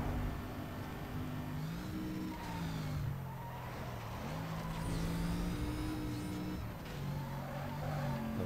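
A Mercedes racing in the Need for Speed Most Wanted video game revs through gear shifts with stepped engine pitch changes and occasional tire squeal, played fairly quietly and steadily with no talking.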